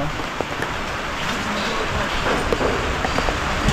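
Steady rain pours down, a dense continuous hiss of drops hitting surfaces, with a few louder taps here and there.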